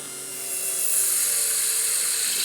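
A mini drill press spins up and drills into plastic with a steady high-pitched motor whine that rises and holds, close and loud, with no voices.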